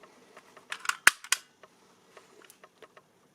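A Makarov PM-X pistol from Borner gives a handful of sharp, close mechanical clicks in quick succession, one crisp snap standing out, then a few fainter ticks trailing off in a quiet room.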